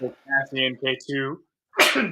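A single sharp human sneeze bursts out near the end, loud and close, after a stretch of someone talking.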